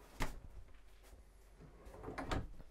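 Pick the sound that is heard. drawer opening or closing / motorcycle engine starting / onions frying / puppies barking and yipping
drawer opening or closing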